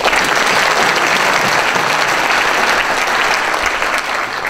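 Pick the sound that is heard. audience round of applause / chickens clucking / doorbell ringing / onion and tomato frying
audience round of applause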